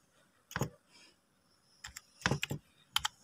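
Computer keyboard typed in short, separated bursts of quick clicking keystrokes, fairly close and clear, with quiet pauses between bursts and no talking.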